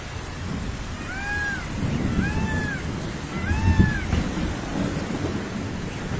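Steady heavy rain falls in a jungle setting of an animated animal story, a dense constant hiss under repeated high meow-like animal cries and a low rumble, with no one speaking.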